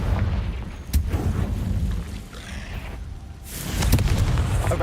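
A Confringo blasting curse explodes in Hogwarts Legacy, with booming detonations and sharp cracks at intervals over a churning low rumble, a heavy blast swelling near the end.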